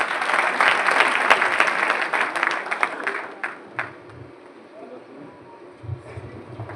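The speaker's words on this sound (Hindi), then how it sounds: "एक बार जोरदार तालियां" Loud applause from an audience at a youth motivational mega event, dense clapping for about four seconds before thinning out into scattered claps and faint murmurs.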